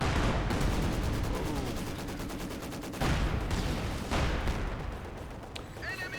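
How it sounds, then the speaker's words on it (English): Mortar barrages pounding an enemy base in the real-time strategy game Company of Heroes 2, with a steady stream of rapid overlapping shots and booming impacts filling the mix at high loudness throughout, under a caster's commentary. "Mortars over here on the edge of the map, just bombarding the base as much as they can."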